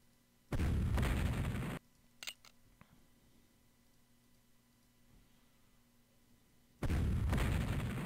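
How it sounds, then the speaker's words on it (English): Artillery bombardment in a Civil War strategy video game: two loud, sustained blasts of cannon fire about six seconds apart, with a few brief pops and a quiet low hum between them. "Let's bombard this cavalry here."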